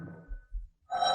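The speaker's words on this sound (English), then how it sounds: "Why don't you answer the phone?" A telephone rings unanswered in an old radio mystery drama, one short bright ring cutting in after a brief low rumble.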